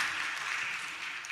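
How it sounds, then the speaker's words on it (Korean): Brief steady applause in a church as a preacher comes up to preach, a dense even patter of many hands clapping at a distance. "설교하러 나오면서 박수 받기는 처음인 것 같습니다만"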